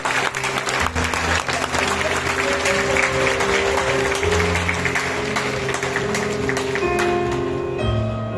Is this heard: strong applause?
yes